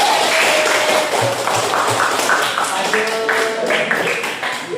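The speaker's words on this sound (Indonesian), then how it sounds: "Tepuk tangan untuk Saufi." Schoolchildren clap together in a junior high classroom, a dense burst of hand claps lasting several seconds, close and fairly loud, with voices mixed in.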